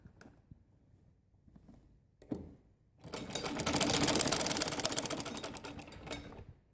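Sewing machine running a burst of double stitching along a salwar seam, starting after a few soft handling taps and building into a steady, close, rapid whirr that lasts about three and a half seconds.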